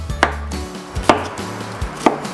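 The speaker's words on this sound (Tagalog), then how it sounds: "Ngayon, hiwain lang natin para siya naman ang ating i-chop." A knife chops through drained boiled cauliflower on a board in a home kitchen, three sharp, close cuts at an even, unhurried rhythm, with nothing else heard between the strokes.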